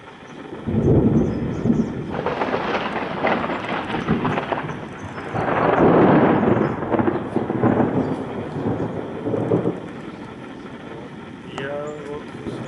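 Thunder rumbling through a tropical storm in the Singapore Botanic Gardens, several loud rolling waves rising and fading over steady rain, with someone speaking in between.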